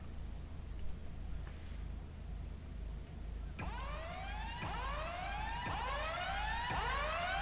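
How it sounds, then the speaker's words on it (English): A wailing ambulance siren in the video game GTA 5 rises in repeated downward-sweeping cycles that start midway and keep going loud and steady over a low rumbling engine, with no talk. "Sounds like a sick fucking ambulance"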